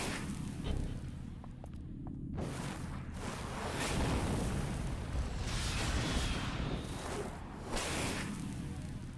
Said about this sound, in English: See, they explode.